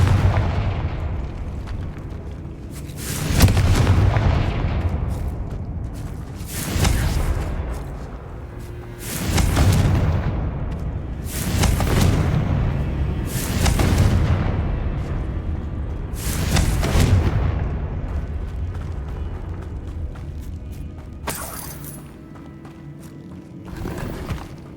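Repeated loud blasting spell explosions in the Hogwarts Legacy video game, about six heavy booming bursts at roughly three-second intervals over a rumbling game soundscape, with no talking.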